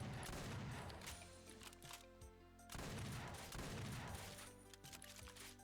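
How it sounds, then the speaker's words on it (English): A rocket launcher fires in Doom amid rapid, crackling volleys of explosive blasts, two loud bursts of barrage separated by a brief lull. "Rocket launcher."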